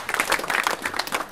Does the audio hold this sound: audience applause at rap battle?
yes